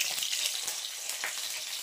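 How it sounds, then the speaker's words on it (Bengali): Fish fries in a pan late at night, a steady close hiss and crackle of hot oil running throughout without pause. "এই 11টার সময় আমি মাছ ভাজছি।"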